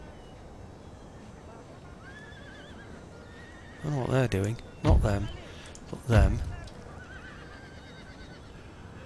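Cavalry horses in the video game Empire Total War neigh three times in quick succession, loud whinnies standing out over a low battlefield murmur while someone talks.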